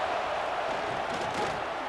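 Home crowd in the College Football 26 video game, a steady loud roar of cheering with no breaks, filling the whole clip.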